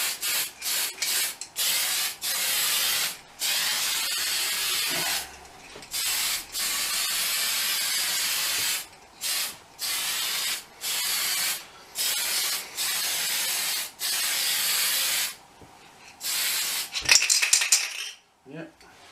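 Aerosol spray paint cans lay a base coat on a model Leopard 2A6 tank in loud, close hissing bursts of one to two seconds, separated by short pauses, with a rattle near the end.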